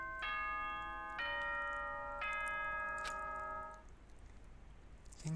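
Danganronpa's announcement chime plays a sequence of four clear, ringing bell-like tones, each sustained and decaying, over a faint hiss of background noise, followed by near-silence.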